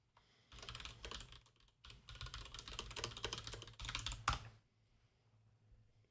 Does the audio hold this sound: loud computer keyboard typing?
yes